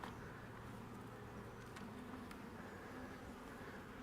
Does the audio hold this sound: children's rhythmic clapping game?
no